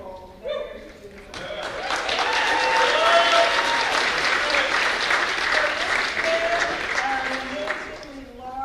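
A large audience at a city mayor's student awards ceremony applauds a high school quartet, loud and sustained clapping that swells, holds for several seconds, then eases, with faint voices and musical tones at the edges.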